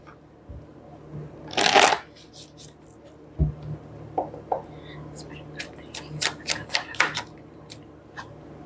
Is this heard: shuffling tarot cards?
yes